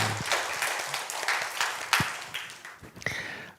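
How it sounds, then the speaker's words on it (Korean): Church congregation gives a short burst of applause during a Sunday worship service, moderately close, irregular claps that thin out and fade over a few seconds. "하나님께 영광의 박수 올려드리겠습니다."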